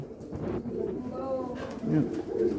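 Pigeons in a home breeding setup coo in low, soft, throaty bursts, close by and steady, with people talking over and between the calls.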